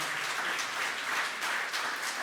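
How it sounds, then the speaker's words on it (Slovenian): An audience at an evening book presentation and talk with politicians breaks into applause, a dense, even patter of many hands that is close and steady throughout. "In ji vi malce zaploskate, lepo prosim, hvala lepa."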